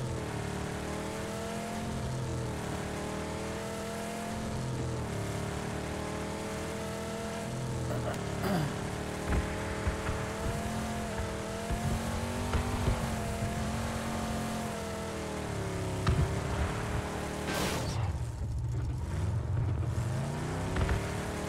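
Steady car engine drone from a Mustang driving in the video game PUBG, with rising and falling revs, gear shifts and occasional bumps, continuous and fairly loud throughout.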